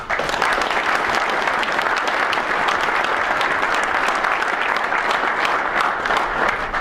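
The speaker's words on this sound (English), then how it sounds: "I want to give a huge round of applause to all of our sponsors and partners for 2013" A large room at the Southern California PGA annual meeting fills with sustained, even applause from a seated audience, continuous and dense with no voices standing out.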